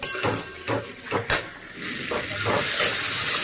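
Spice paste with chopped green chillies sautés in a pan, with several scraping stirs and a metallic knock early on, then a steadier rising sizzle and hiss, close, with no talk.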